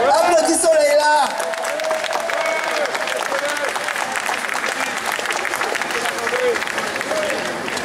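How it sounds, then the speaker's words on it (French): Crowd applause at an outdoor event, dense clapping from many people that follows a shouting voice and continues steadily at moderate loudness, with scattered voices mixed in. "Applaudis le soleil là!"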